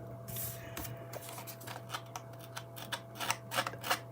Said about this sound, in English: I'm just dragging the scissors along